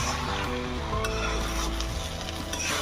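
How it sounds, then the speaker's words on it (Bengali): Chopped green chilli and onion are stirred in a pan, giving a steady sizzling and scraping texture at close range, with faint background music throughout. "এখন এগুলো দিয়ে ভালোভাবে নাড়াচাড়া করে দিব"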